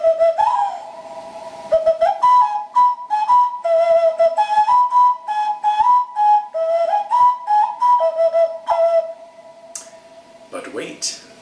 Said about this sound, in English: we're going to throw in a bird whistle made by a pastor in Nicaragua.